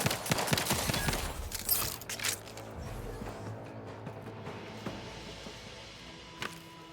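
Gunfire from The Outer Worlds 2, a burst of shots packed into the first two seconds and then thinning to scattered faint pops over a low rumble of game ambience.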